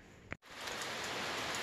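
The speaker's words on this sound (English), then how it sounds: "It's just barely raining a little bit." Light rain falls outdoors as a soft, continuous hiss that steadies after a brief dropout near the start. Nothing else stands out.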